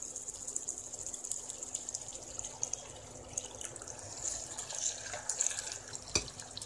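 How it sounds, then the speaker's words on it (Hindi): Water trickling into a pan of potato and tomato curry, a soft running, splashing pour that stays faint and steady, with a single sharp knock near the end and no talking. "इसमें थोड़ा सा पानी मिक्स करेंगे।"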